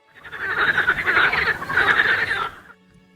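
Frogs croaking in a loud, close chorus of rapid rattling calls that rises and falls in two swells before stopping abruptly, followed by a brief faint tone.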